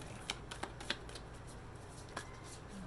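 A deck of playing cards shuffled during a tarot-style love reading, giving a few short riffling bursts spaced apart over a quiet background, close and soft.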